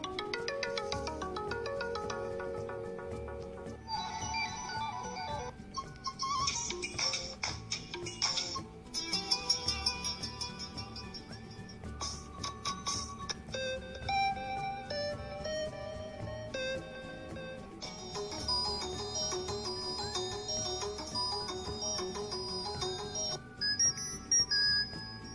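A phone ringtone app plays a rapid run of short ringtone and SMS tone samples one after another, bright melodic electronic chimes and jingles with shifting tunes, steady and loud with no talking.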